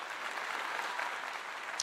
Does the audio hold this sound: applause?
yes